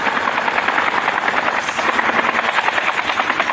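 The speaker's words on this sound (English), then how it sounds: "Because I'm riding in the helicopter." Loud, steady helicopter rotor thumping with dense engine whine in the video game Call of Duty Mobile, continuous throughout, close and unbroken.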